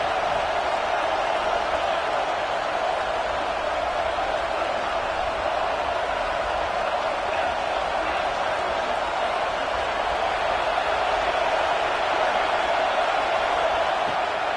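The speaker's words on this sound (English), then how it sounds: "Listen to this crowd just shaking the girders of this place" A loud football stadium crowd roars steadily, shaking the stands as it cheers to help the defense, a dense and continuous wall of noise from start to end.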